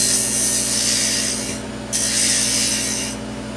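Hand-tool shaping of a shallow concave dish into the centre of a wooden piece where a candle will sit, a steady broadband rasping scrape that runs continuously, pauses briefly, then resumes, close and fairly loud with no talk.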